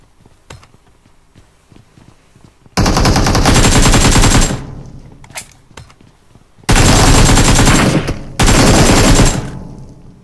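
Several bursts of automatic gunfire from PUBG Mobile, each rapid volley lasting a second or two, loud and close, separated by quieter gaps with faint footsteps and light rustling.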